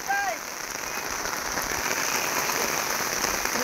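Heavy rain pours steadily onto a muddy cricket ground, a dense, unbroken loud hiss of drops throughout, with a brief faint tonal sound near the start.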